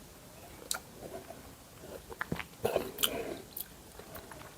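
Quiet, close mouth sounds of someone sipping Japanese whisky: a few soft slurps, lip smacks and small wet clicks scattered over a faint background, with no talking.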